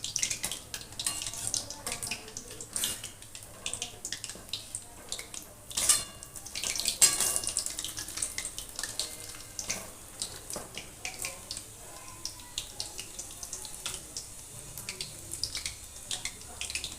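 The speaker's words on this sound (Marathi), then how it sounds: "चांगलं लाल कलर येईपर्यंत तळून घ्यायचे" Urad dal fritters for dahi vada deep-frying in oil over a low flame: a steady, dense crackling hiss runs throughout, with a few louder bursts of bubbling partway through.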